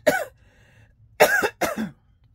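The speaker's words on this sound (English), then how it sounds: "You know your throat gets dry and you cough right when you get on video." Three short, loud coughs from a dry throat, one cough followed after a pause by two close together, nearby with no talking.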